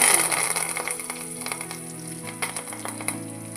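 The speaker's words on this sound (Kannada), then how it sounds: "ಸಾಸಿವೆ ಜೀರಿಗೆ ಚಟ ಚಟ ಸಿಡಿಯಾಕತ್ತವು" Mustard seeds and cumin crackle in hot oil for a village-style raw mango dish, giving a steady hiss with scattered sharp pops. A low sustained musical tone runs under it, and no one speaks.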